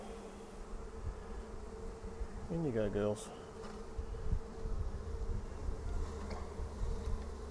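Calm honeybees buzzing close by as a handful is poured from hand to hand into a backyard hive, a steady insect drone with a brief higher whine, and someone speaking softly over it.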